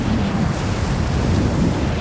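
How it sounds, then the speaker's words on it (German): Howling mountain wind in Rise of the Tomb Raider roars as a loud, continuous, rushing wash of noise with no breaks and no other sounds on top. "Dieser Wind ist Wahnsinn."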